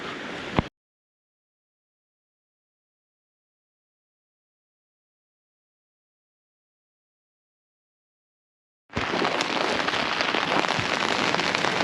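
Rain falls on a beach on the Jurassic Coast at Southbourne, a dense, steady hiss heard in two separate bursts with a long stretch of silence between them.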